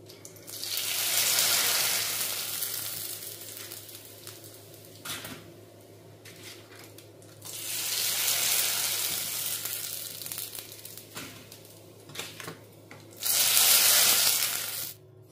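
Bursts of crackling sizzle as rice paper pieces fry into chips in hot oil, rising and fading in three loud waves with quiet clinks between.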